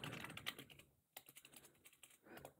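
Typing on a computer keyboard to search for a Windows 10 download: quick irregular clacking keystrokes in bursts, close and fairly quiet, with a brief pause partway through and no talking.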